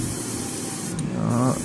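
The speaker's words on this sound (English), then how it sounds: "We're just spraying from above," Airbrush spraying grey and white paint onto a Bandai Star Destroyer model, a steady close hiss of compressed air, with a brief voice and faint background music underneath.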